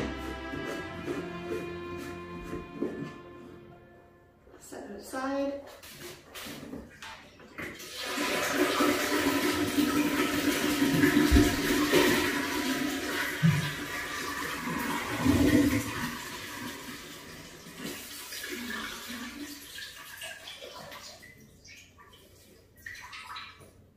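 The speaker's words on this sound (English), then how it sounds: "And then you will lift it up and pour it into the toilet." Waste from a van cassette toilet poured into a toilet, a sustained gushing, splashing stream of liquid lasting many seconds, preceded by clattering handling noises and fading to trickles.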